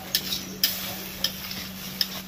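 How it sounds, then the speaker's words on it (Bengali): Potatoes are stir-fried in spice masala for a Bengali tengra fish curry with cauliflower, a soft steady sizzle broken by a few sharp scrapes of a spatula against the pan, with nobody talking. "আগে আলু দিয়ে কষিয়ে নিই ভালো করে।"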